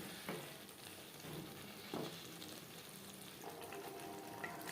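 Bhola fish curry with potatoes fries in a pan with a steady, soft sizzle, interrupted by a few brief scrapes of stirring.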